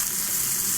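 Onions sizzle and fry steadily in a pan, a close, even crackling hiss with no breaks.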